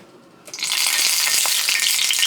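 Hot oil in a pan on the stove, ready for frying cornmeal pancakes, bursts into a loud, close, crackling sizzle after a brief quiet start and keeps popping and bubbling steadily.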